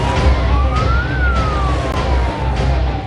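An ambulance siren wails steadily as the vehicle carries a patient toward another hospital, its rising and falling tone close and loud over continuous road and engine rumble.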